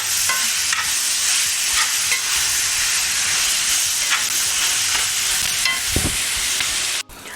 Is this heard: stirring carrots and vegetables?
yes